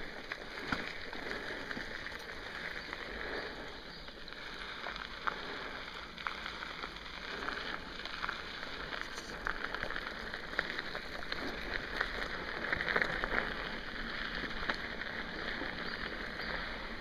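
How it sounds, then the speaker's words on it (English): Steady rain patters on a rocky, puddled woodland trail along an old canal, a continuous soft hiss with scattered drops close by, and no talking. "I'm sure if it stops raining long enough, it should dry up a little."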